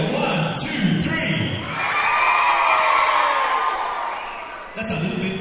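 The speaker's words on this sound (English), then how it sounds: "I want to hear a big cheer, shouting and screaming as loud as you can as you're going to cheer for all the girls tonight" A large audience at a Miss Tau'olunga dance competition gives a long, loud cheer, with shouting and screaming swelling into a sustained roar before it fades. A voice can be heard briefly at the start and end.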